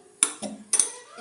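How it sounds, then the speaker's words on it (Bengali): A metal kadai set down on a gas stove while cooking vegetarian cabbage: two sharp clanks about half a second apart, each with a short metallic ring, close and alone. "এই যে কড়াইটা বসিয়ে দিয়েছি"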